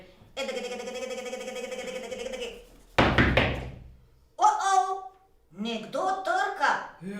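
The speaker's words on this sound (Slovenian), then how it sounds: "Nekdo trka." A knock on a door during a puppet play, a quick sharp series of raps sounding between stretches of sung and spoken voices.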